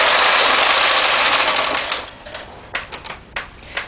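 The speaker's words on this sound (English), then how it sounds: "when I bring the carriage back across, it's going to lay yarn in every one of those stitches" Knitting machine carriage pushed back across the needle bed with ribber attached, a loud rushing mechanical whir that fades after about two seconds into a few sharp clicks and clacks.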